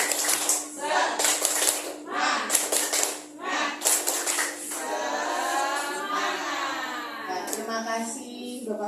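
Schoolchildren and teachers at an Indonesian elementary school perform a rhythmic group spirit clap: several loud bursts of clapping in quick sets, followed by a sustained chorus of children's voices chanting together.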